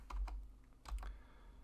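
Quiet typing on a computer keyboard while entering JavaScript code: two short clusters of light key clicks separated by a brief pause, faint and close.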